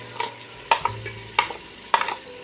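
Spices and mutton stir-fried bhuna-style in a pot, sizzling close up as a spoon scrapes through in a few sharp strokes against the metal over a steady fry hiss, with no talk.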